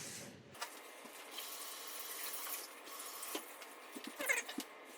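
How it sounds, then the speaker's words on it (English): Tap water runs steadily and quietly into a kitchen sink as green onions are rinsed beneath it, with a few soft splashes and knocks. "So I'll give them a rinse here."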